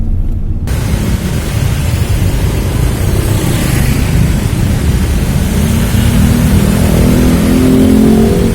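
A Land Rover Defender drives along with a heavy, continuous low engine rumble and road noise, loud and close, swelling slightly toward the end.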